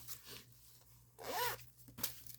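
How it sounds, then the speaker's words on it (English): A zipper on a canvas Disney pouch is pulled in several short bursts, with one long rasping run in the middle and a sharp final pull, close and fairly quiet, with no voices. "Nothing special with the zipper pull."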